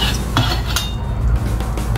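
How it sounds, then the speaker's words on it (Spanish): Utensils stir freshly cooked spaghetti in a pan on a ceramic hob alongside cuttlefish and cod in a whisky sauce, giving soft scraping clinks and light rustling over a steady low hum, close and moderately loud. "Removemos bien."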